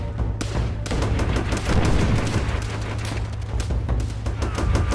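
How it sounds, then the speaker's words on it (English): Heavy gunfire and blasts fill a Call of Duty: World at War battle, with repeated sharp cracks over a steady low rumble and one dense burst of explosive noise near the start. "Oh god, that also does a grenade."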